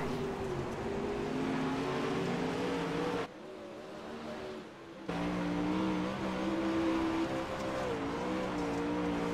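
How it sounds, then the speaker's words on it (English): Simulated race cars roar around a dirt oval in a virtual racing league event, engines droning steadily with shifting pitch, briefly muffled for a moment before the loud pack sound returns. "Redding going to rocket around the top side of the Wheeler Metals number 2 car."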